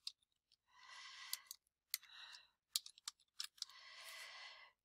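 Typing on a computer keyboard while entering a worksheet name in an Excel spreadsheet: two sustained bursts of rapid key clicks, with scattered single louder taps between them, close and clear with no talking.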